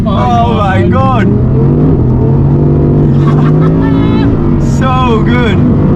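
Audi R8 GT with a V10 engine revving in 2023 trim, a loud sustained roar that rises and falls beneath excited voices talking and shouting throughout.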